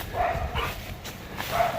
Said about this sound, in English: And also down there barking is Sally